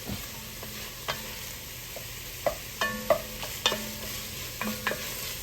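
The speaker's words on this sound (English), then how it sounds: "So we're going to caramelize this up a little bit." Beef caramelizing in a pan for goulash, a low continuous sizzle punctuated by frequent metallic clinks and scrapes of a utensil stirring, close and fairly quiet.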